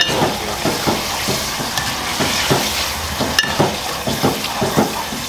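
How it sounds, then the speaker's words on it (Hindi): Mutton kidney and liver frying with onions in a pan, a steady loud sizzle with repeated scraping stirs at an irregular rhythm, close by, with no talking. "प्याज के साथ इसको भूनते रहेंगे"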